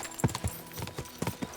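Horse hooves clip-clop in Kingdom Come: Deliverance II, a steady walking rhythm of about eight distinct thuds over under two seconds, close and clear with little else around them.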